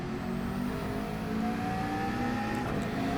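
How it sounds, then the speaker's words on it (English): In a racing video game, a Porsche race car whines past with a rising and falling engine tone, steady and moderately loud over the constant hum of the player's own car, with no talking. "So the Porsche goes by and I go by the BMW."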